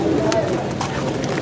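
Pigeons at a crowded pigeon market, a dense wash of cooing and flutter mixed with constant crowd chatter and nearby voices talking throughout.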